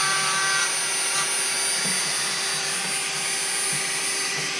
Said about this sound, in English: I think this is just a drywall bit that I'm using.